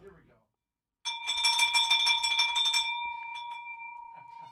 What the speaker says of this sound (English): I need my bell, Brent.